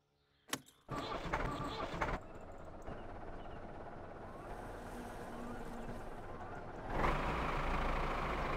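A car engine in the video game My Summer Car cranks briefly and then catches, settling into a steady idle that runs on, with a louder rise near the end.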